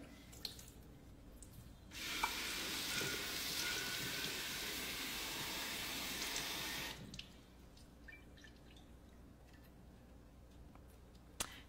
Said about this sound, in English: You'd rinse it really good.